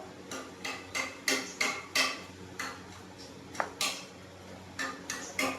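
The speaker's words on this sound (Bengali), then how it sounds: "সর্ষেটা শিলে বেটে নিচ্ছে একটু শিলে বাটাটা ভালো লাগে" Mustard seeds being ground on a grinding stone in a home kitchen, heard as a steady series of hard scraping knocks in an uneven rhythm, close and fairly loud over a low constant hum.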